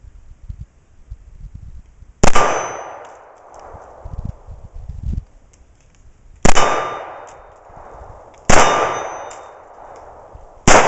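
A Remington R1 1911 pistol fires .45 ACP in four sharp, loud reports spaced a few seconds apart, each with a ringing tail that dies away into quiet.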